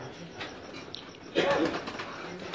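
Pigeons at a racing loft coo at night, a soft throaty burst rising briefly over a quiet, hissy background with faint scattered rustling.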